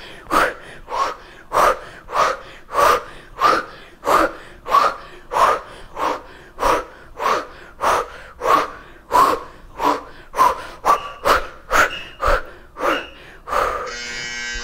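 Heavy, forceful breaths during a Kundalini-inspired breathing exercise in a HIIT workout, about twenty sharp rhythmic inhale-exhale bursts in steady succession, loud and close, quickening slightly toward the end.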